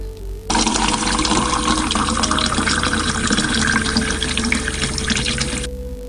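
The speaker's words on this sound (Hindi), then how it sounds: "और पानी डालते हैं।" Water pours steadily from a tap into a measuring vessel, a bright, continuous gushing fill of about five seconds that starts abruptly and stops cleanly, with a faint rising tone as the vessel fills.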